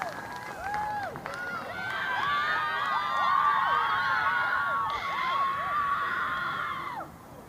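Crowd of girls cheering and shouting at a girls lacrosse game, a sustained, loud burst of excited high-pitched whoops and screams from a varsity squad lasting several seconds before tapering off.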